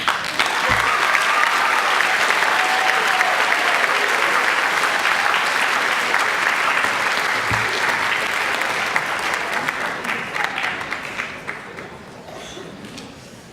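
An audience at an 8th grade school recognition ceremony gives a loud, sustained round of applause. The dense clapping holds steady for about ten seconds, then tapers off.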